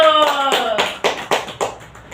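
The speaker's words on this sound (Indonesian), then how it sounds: "Wah, tepuk tangan dulu." Children in a primary school classroom clap in a burst of quick claps that settles into a few slower, separate claps, heard close and fairly loud, with a voice heard at the start.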